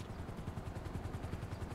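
Helicopter approaching in GTA 5 Online, a steady, fairly faint rotor thumping with a regular chopping rhythm that holds throughout, with no talking over it.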